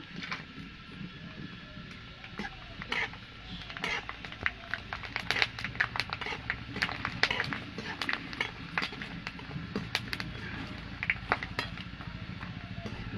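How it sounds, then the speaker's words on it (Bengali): Potato chips fry in hot oil in a home kitchen wok, giving a continuous crackle of dense, irregular pops and spits that grows busier toward the middle, heard close and fairly quiet. "কড়াইতে আমি তেল দিয়ে দিয়েছি তেলটা গরম হয়ে গেছে চিপসগুলো দিয়ে দেবো"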